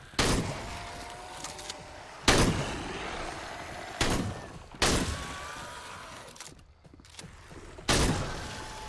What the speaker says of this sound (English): I'm gonna shoot it.